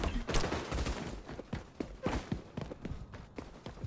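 Incinerator-round gunfire in the shooter game XDefiant crackles in rapid irregular bursts, a dense string of sharp shots at moderate level with no talking.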